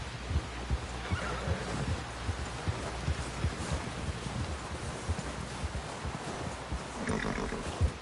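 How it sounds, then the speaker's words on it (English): A horse whinnies amid a dense, rumbling Red Dead Redemption 2 game soundscape with hoofbeats, fairly loud and steady throughout. "Someone help John down off this horse."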